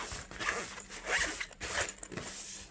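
Zipper of a cable and tech organizer bag being pulled shut in several quick, raspy strokes, close and clear, with brief pauses between pulls and no talking over it.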